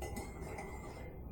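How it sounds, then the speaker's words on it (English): A spoon stirs a cup of coffee seasoned with a pinch of salt, giving quiet, steady clinking against the cup over a soft background. "give that a nice stir"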